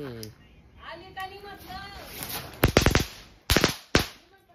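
Firecrackers bursting outdoors, a rapid string of sharp cracks followed by two more loud pops, while people talk excitedly throughout.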